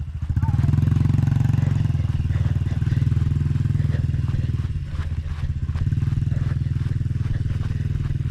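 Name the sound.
dirt bike motorcycle engine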